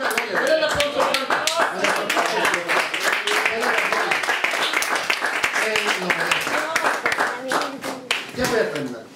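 A church congregation claps hard during a service about testimonies: quick, rhythmic clapping from many hands, loud and close, mixed with voices and what may be singing or shouting throughout.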